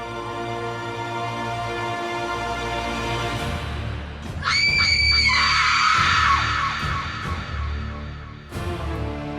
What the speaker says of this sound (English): The cold, the darkness, the mysterious scream.